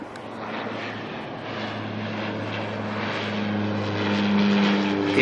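A Saab turboprop airliner arriving at Auckland Airport from Wanganui, its propeller engines giving a steady, fairly loud drone with a low tonal hum that swells slightly toward the end.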